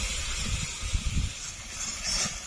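Masala of turmeric and Kashmiri red chili powder frying in oil for a potato and ritha fish curry, a soft steady sizzle with low stirring scrapes and bumps, close and quiet.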